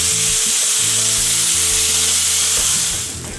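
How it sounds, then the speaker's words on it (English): Cubes of blade steak sizzle loudly in a hot pan as they stir fry, a dense, steady hiss with occasional scraping, and no voices. "what we're just going to do is stir fry these just for a few minutes"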